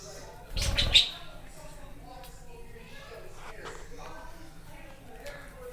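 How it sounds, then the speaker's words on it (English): Pet birds kept indoors chirp and tweet softly, with one sharper call early on, while a person talks over them at close range. "Look, just pay attention to the birds."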